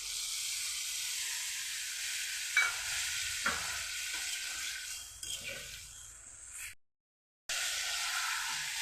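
Potatoes and cauliflower sauté in a pan with turmeric and chili paste, a soft steady sizzle and hiss broken by a few stirring scrapes, then a brief cut to silence before the frying resumes.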